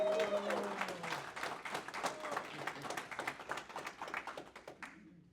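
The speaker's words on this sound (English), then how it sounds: "So, if you would give a rousing round of applause to our host, Amit Grover." An event audience breaks into steady hand clapping for the evening's host, a dense patter of many hands with some voices murmuring underneath, fading out near the end.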